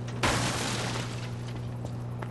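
An explosion in the video game Lies of P bursts out as a loud, dense blast that holds as a roaring rumble for about two seconds.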